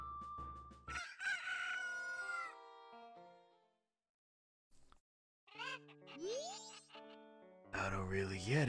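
Rooster crows from the Majora's Mask video game, several drawn-out cock-a-doodle-doo calls with game sound effects between them and a brief silent gap midway.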